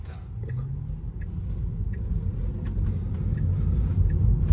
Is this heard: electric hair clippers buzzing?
no